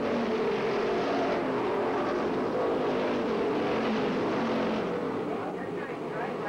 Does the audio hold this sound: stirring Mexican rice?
no